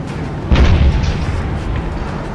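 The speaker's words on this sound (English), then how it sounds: "I just got the airstrike." An airstrike explosion in the game Teardown sets off one loud, deep boom about half a second in, followed by a long rumbling roar that slowly fades.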